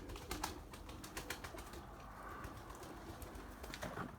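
Soft cooing from young Erzurum White pigeons murmurs in the background, faint and low, with scattered rustling and clicks around them.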